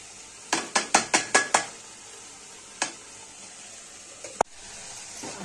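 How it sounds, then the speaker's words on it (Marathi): Puran for puran poli roasts in a pan while a spatula scrapes through it. A quick run of six strokes is followed by two isolated scrapes, over a faint sizzle. "आता हे चांगलं सरसरी भाजून घ्यायचे बघा पुरण आपलं."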